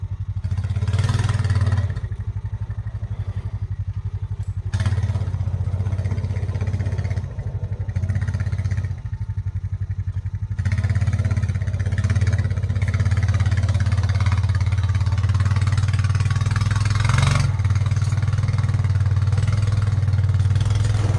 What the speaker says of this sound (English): the four-wheeler, even though it's in four-wheel drive, trying to push the log arch backwards, the four-wheeler slides sideways